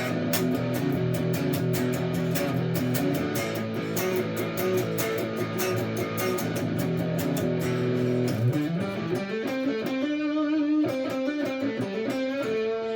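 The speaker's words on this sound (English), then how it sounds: "Now I've put distortion on this." A Chibson Slash signature electric guitar played through distortion gives a muddy, thick tone, with rapid strummed chords and a sliding bend near the end, sustained and loud, with no voices.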